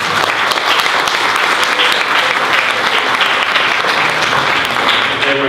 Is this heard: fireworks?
no